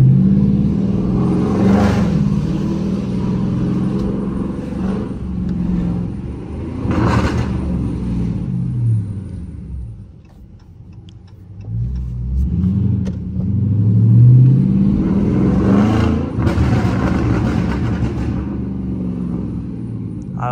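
Burble-tuned Dodge Charger R/T driving through a city neighborhood: a loud, deep rumbling engine that swells in repeated revs and drops between them, close to the car with no talking.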